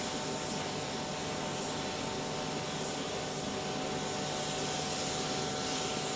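Paint spray gun laying down a base coat in custom automotive paintwork, a steady dense hiss held at close range without a break for the whole stretch, with no voices.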